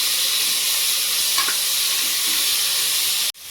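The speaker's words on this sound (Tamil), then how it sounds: "தக்காளி சேர்த்து ஒரு 2 நிமிஷம் நல்லா வதக்கிடலாம்." Tomatoes sautéing in hot oil in a pan, a loud, dense hiss and sizzle running steadily before cutting off abruptly at the end.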